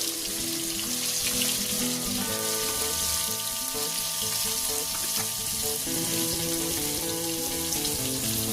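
Potatoes frying in hot oil with bay leaf and whole spices, giving a loud, steady sizzle close by, with faint stirring and clinking over it and no talk.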